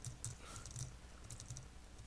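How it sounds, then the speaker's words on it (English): Typing on a computer keyboard, a steady stream of quick, close key clicks with a few short bursts and pauses, heard alone with no talking. "Sorry, I'm typing slow."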